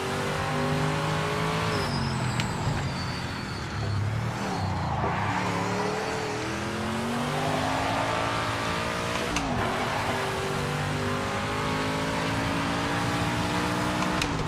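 Race car in a sim racing game swung sideways in a controlled drift on the Daytona circuit: a loud, continuous engine roar with shifting revs and tyre squeal, running steadily close up with no talk.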